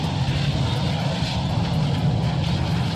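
A VTOL jet aircraft in the game VTOL VR hovering like a helicopter, its engine a loud steady roar with a broad rumble that holds constant with no talking.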